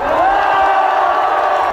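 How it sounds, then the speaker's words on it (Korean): A crowd at a Korean political gathering cheers and whoops loudly and continuously, with some clapping, after being asked to applaud President Yoon Suk-yeol and an ambassador. "큰 박수 한번 부탁드립니다"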